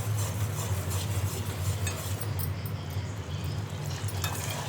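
Coconut milk boiling in a pan while being made into homemade coconut oil, a steady dense bubbling and sputtering with faint spatters, close and continuous with no talk.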